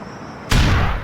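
Grenade explosion in GTA IV, a single sudden loud boom bursting out of quiet background and decaying over a fraction of a second.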